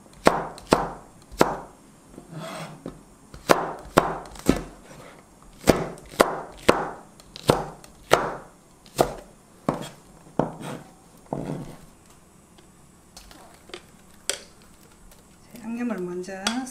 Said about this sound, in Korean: 고추는 더싹하게 썰을게요.